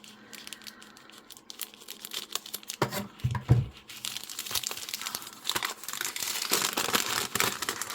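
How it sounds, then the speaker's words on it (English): Paper packaging being torn open by hand: crinkling and rustling build into sharp tearing bursts around the middle, followed by steady close crumpling and ripping. "once I've got through this paper"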